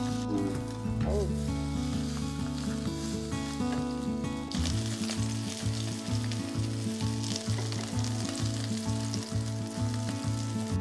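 Shrimp pancakes with sea-beach aster fry in a small pan with a steady, loud sizzle and crackle throughout, the frying growing busier partway through, with faint music-like tones in the background.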